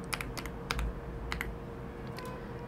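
A few quick keystrokes on a computer keyboard while renaming a file, with crisp clicks in small clusters over a low steady hum and no speech.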